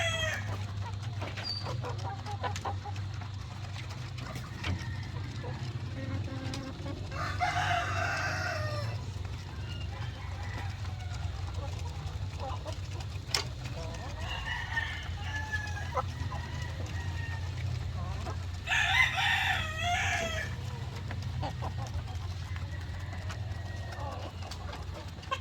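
Heritage pullets on a farm cluck softly and steadily, with a couple of clear rooster crows rising above the flock, all at a moderate distance over a low, constant background hum.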